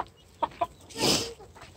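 Chickens on a farm cluck nearby: two short clucks followed by a longer, louder drawn-out squawk, then quieter scattered clucking.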